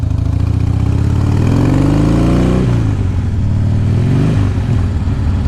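A 2005 Harley Davidson Heritage Softail engine runs loud and close, its throttle blipped so the pitch climbs, drops back, then rises again over a steady throbbing idle.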